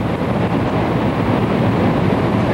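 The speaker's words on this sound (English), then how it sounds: "a substantial quantity of earth is being moved by the large flow of water." A large flow of floodwater tearing through a failed cofferdam and carrying away earth makes a loud, steady, broadband rushing roar with no pauses.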